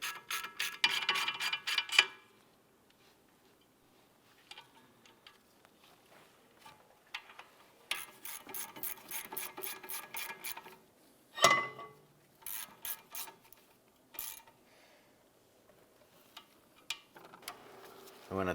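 Ratchet snugging down rear brake caliper bolts on a 2006-2011 Cadillac DTS, rapid close clicking runs in several short bursts with quiet gaps and a clank in between.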